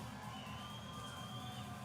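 A boxing crowd at a bare-knuckle fight show in Blackpool cheers as fighter Jimmy McCrory enters; a distant, steady roar with a faint tonal line of music, no speech.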